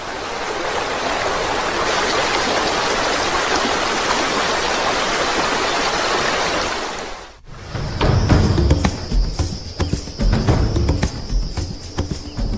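A mountain stream in Nyungwe forest rushes in a loud, dense, unbroken wash of water for about seven seconds. Then it cuts to a quieter scene with lighter water sounds and scattered higher calls.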